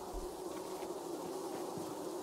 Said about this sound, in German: Schau mal, Aiden. Ein Bienenstock voller Honig.